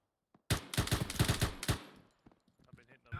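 Sharp bursts of automatic gunfire in a military shooter video game, close and loud, a quick string of shots in the first half before fading into quieter scattered noise.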